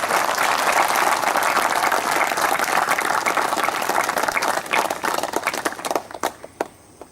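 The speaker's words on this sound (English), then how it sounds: "Let us give a big clap for marriage." Audience applause fills a hall during a spiritual talk, a dense sustained clapping that thins out near the end into scattered last claps.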